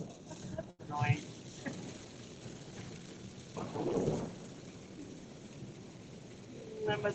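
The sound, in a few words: thunderstorm with rain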